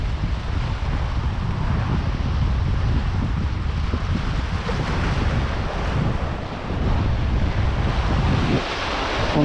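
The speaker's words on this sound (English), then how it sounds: "the wind's picked up" Steady, loud wind at sea during a fishing trip, roaring broadband with rushing gusts and surf-like wash, continuous throughout with no talking.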